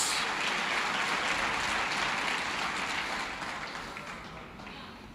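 A church congregation applauds during a sermon, a dense wash of clapping that starts full and gradually fades over several seconds, with no voices on top.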